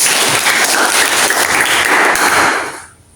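A classroom of students claps together in a dense, loud burst of applause that holds steady for a few seconds, then stops quickly, leaving near silence.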